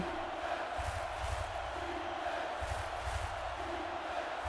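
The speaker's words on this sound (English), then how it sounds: "this Rollers home crowd cheering for their defense to make a key stop here" Home crowd in a football video game, the Rollers' stadium roaring and cheering for their defense, a dense steady wash of crowd noise with swelling pulses of chanting.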